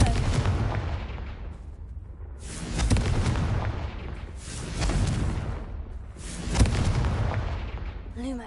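Confringo explosive spells cast in the Hogwarts Legacy video game, three loud, punchy blasts that come at a steady pace, each with a booming tail that fades out, close and forceful.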